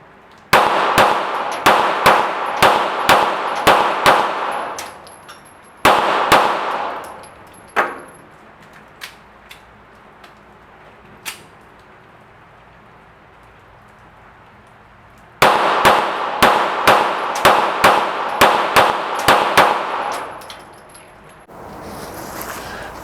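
Rapid pistol shots firing CBC PolyMatch ammunition crack out in quick bursts of about six or seven, separated by quieter pauses with a few isolated metallic clinks.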